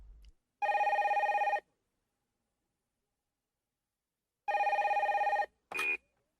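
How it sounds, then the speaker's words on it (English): An old-style telephone bell rings in two clear bursts, each about a second long, with a short extra ring at the end, loud and close in an otherwise quiet room. "Then the phone rings."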